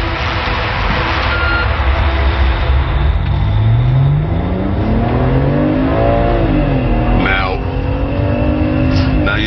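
A BMW 330 automatic accelerates hard, its engine climbing steeply in pitch toward 7,000 RPM before dropping and rising again through a gear change, loud and close, with someone talking over it.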